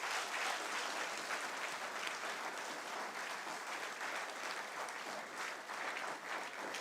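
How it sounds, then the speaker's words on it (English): A hall full of people at a school graduation ceremony gives a sustained, loud round of applause for a past principal, dense steady clapping filling the whole stretch without a break. "give Mr. Jeremiah, our past principal, a lusty round of applause again"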